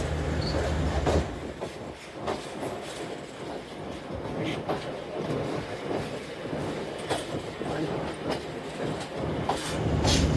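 Shalimar Express train pulling out of Faisalabad station, wheels clattering in a steady clickety-clack with occasional squeals and a continuous rolling rumble, heard from inside the train.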